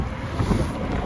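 Strong headwind buffets the microphone while cycling, a steady, loud roaring rush of wind with no talking.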